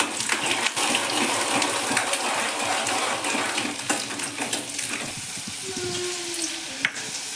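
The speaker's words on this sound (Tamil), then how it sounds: "நம்ம இந்த பூண்டை வந்து எண்ணெயில் வதக்கிடலாம்" Garlic sautéing in hot sesame oil on a stove, a steady close sizzle and crackle running throughout, with a few brief clinks partway through.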